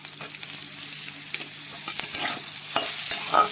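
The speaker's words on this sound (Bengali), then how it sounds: "এবার আমি চিংড়ি মাছগুলো দিয়ে দেবো।" Prawns fry with onions in a pan, a close, steady sizzle with the scrape and rattle of stirring growing busier toward the end; no one speaks.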